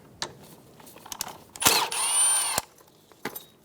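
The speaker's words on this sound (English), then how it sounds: "Using a 10mm socket, remove the bolt for the brake line bracket." A power tool with a 10mm socket spins out a brake line bracket bolt on a 2014-2018 Chevrolet Silverado 1500, one loud whirring burst of about a second framed by clicks and clanks of handling.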